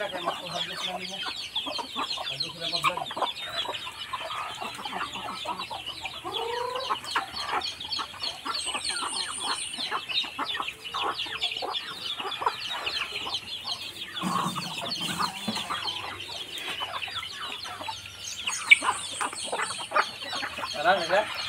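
Chickens clucking and squawking in a flock on a farm, dense overlapping calls close by with occasional louder cries, while people talk at times in the background.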